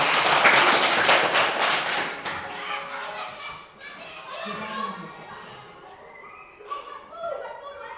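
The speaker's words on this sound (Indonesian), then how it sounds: "tepuk tangan dulu" Children in a primary classroom clap together in a burst of taps that fades into scattered claps and children's chatter, with a teacher's voice partly over the noise.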